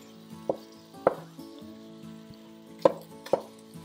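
Ground beef being broken up in the bottom of a pan for chili, heard as a few sharp scraping knocks of a utensil against the pan, spaced irregularly over a low steady background hum.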